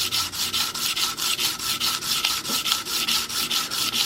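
A Cutthroat broadhead is sharpened on 240 grit sandpaper: steady, rhythmic rasping strokes, about four per second, close and fairly loud, with no voices.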